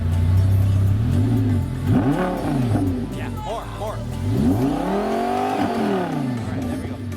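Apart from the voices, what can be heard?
sports car engine revving exhaust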